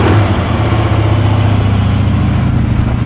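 A new 2013 Harley-Davidson Road Glide Ultra FLTRU motorcycle idles steadily up close, its low, throbbing engine rumble loud and even for a few seconds, with no voices over it.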